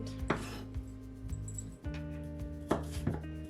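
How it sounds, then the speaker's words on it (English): A knife cuts baby corn in half on a board: several crisp chopping knocks and clicks in an irregular rhythm, close up, with faint kitchen clatter. "Then continue with your baby corn, just cutting them in half, just like that."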